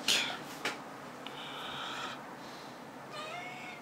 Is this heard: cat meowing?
yes